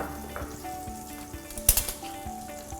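Dried chilies sizzle steadily in hot oil in a Thai kitchen making fried shrimp salad, with a brief sharper crackle or utensil tap partway through and no talking.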